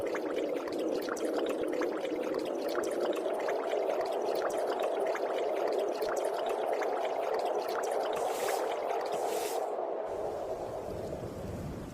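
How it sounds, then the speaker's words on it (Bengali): Steady rain pours down at a river, with a fisherman's broken boat out in open water, a continuous dense hiss throughout that cuts off near the end. "এই রে, বলতে না বলতে দেখছি বৃষ্টি চলে এসেছে।"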